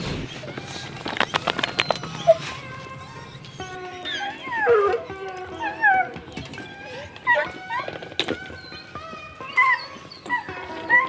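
Hunting dogs raised by their owners bay and howl in rising, wavering cries, several calls overlapping in an irregular chorus over a busy background of scattered knocks and thuds.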